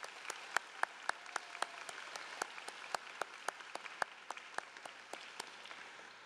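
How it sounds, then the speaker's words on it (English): Sparse audience at a school commencement ceremony clapping, scattered distinct claps in an uneven rhythm, fairly quiet and distant. "Let's give them another round of applause."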